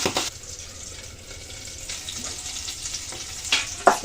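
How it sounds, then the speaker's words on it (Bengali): Large tangra fish fry in hot oil, giving a continuous crackling hiss that swells at the start and end, with a few faint clinks and no talking. "ভালো করে ভেজে নেব।"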